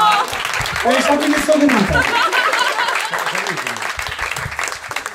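A comedy-club audience applauds and laughs at a German stand-up show, a steady mass of clapping with someone talking loudly over it for most of the stretch.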